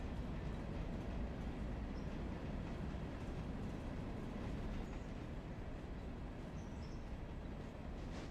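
Steady rumble of a railroad video game train hauling a passenger car, a continuous low rolling drone with faint rail clatter running at constant loudness throughout, no voices.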